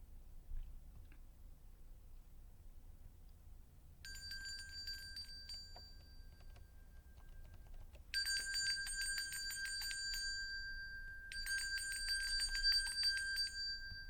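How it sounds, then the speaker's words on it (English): A bright bell rings in three bursts, the first softer and the later two louder and denser with shimmering overtones, over a quiet low hum with no speech. "Let's ring that bell"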